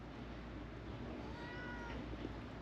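A pet cat named Missy gives a soft, drawn-out meow over a steady background hum, fairly faint and alone without talk.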